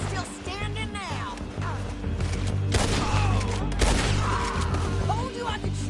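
Red Dead Redemption 2 gunfight in which sharp shots and booming impacts punch through a busy mix, with people talking over much of it.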